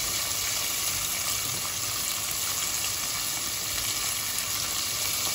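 Southern-fried chicken pieces sizzle steadily in a pan of hot oil, with a loud, dense, unbroken frying hiss running throughout and no voices.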